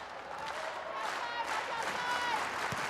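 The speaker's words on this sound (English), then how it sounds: "And the Warrior crowd now on their feet." A high school volleyball crowd at a state championship match stands and cheers, applause and voices forming a steady, moderately distant wash that swells slightly over a few seconds.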